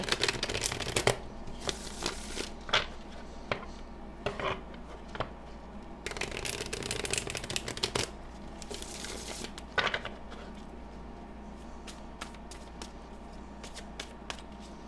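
A deck of tarot cards riffled and shuffled repeatedly, with crisp bursts of flicking and soft slides between them, close up and alone.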